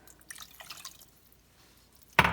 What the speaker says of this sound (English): And then I'm going to add a cup of water.